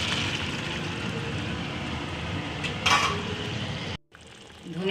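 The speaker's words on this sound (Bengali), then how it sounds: "সব ভাজা হয়ে গেছে। এবার আমি জল ঢেলে দিচ্ছি।" Water poured into a pan of fried cauliflower with tomato, chilli and bay leaf, hissing and sizzling steadily up close, with a sharp surge of spatter partway through before cutting off.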